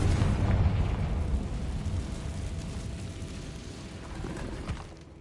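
A Confringo blast spell fired in a video game, a loud low rumbling boom at the start that slowly decays into a long roaring tail, with a smaller swell near the end.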